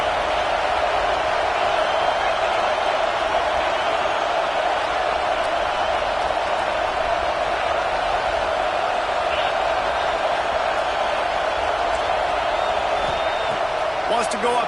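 Steady roar of a stadium crowd at a college football game, a dense continuous wash of cheering and noise holding level throughout, with commentary voices talking over it.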